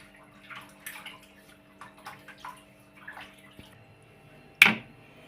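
Ingredients for a kandankailu curry are rinsed by hand in water, making soft, intermittent sloshes and splashes close by that end in one sharper splash.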